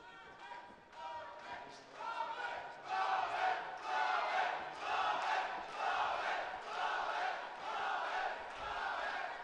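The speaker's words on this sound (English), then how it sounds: "Crowd really starting to get behind Plavec here" An arena crowd at a WFC 24 MMA fight between Drmonjic and Plavec swells into a roaring cheer that builds and holds loudly, with voices shouting throughout the din.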